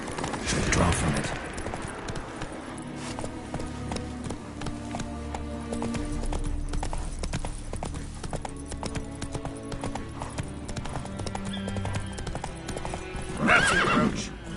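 A horse gallops in The Witcher 3 on PS5, its steady clip-clop of hooves running over game music, with a whinny near the end.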